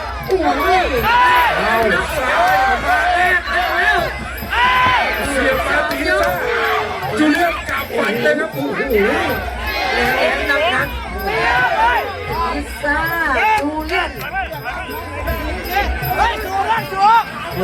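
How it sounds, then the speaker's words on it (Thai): Spectators at a Muay Thai fight create continuous loud crowd noise, with shouting, chatter and cheering, a dense babble of many voices that stays steady throughout with brief dips. "กองเชียร์ด้านล่างนะครับ"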